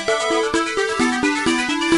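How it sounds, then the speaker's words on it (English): System Shock video game soundtrack played through DOSBox emulation, a synthetic looping melody of evenly spaced bright notes and beats over a thin bass line, steady and clear with no voices. "the DOSBox, well, it makes the music sound like this."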